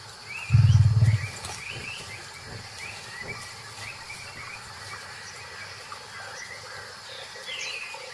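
A single deep, loud roar from a tiger near the start, fading into an outdoor wildlife ambience with insects and distant birds.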